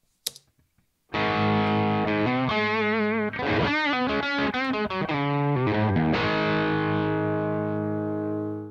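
Electric guitar played through a Guitar Rig amp simulation with heavy distortion, a few faint clicks, then loud, sustained chords and riffs with gritty overdriven tone ringing out continuously.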